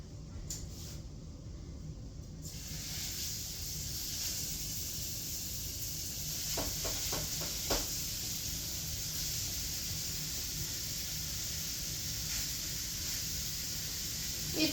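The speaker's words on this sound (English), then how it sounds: "Now I'm going to add in some olive oil into my pan. And we're going to add the beef into the pan as well." Beef searing in olive oil in a pan, a continuous even hiss and sizzle heard close up, with a few faint clicks and scrapes partway through.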